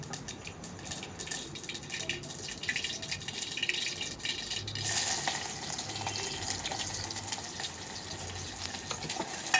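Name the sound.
tempering being fried for dal (lentils)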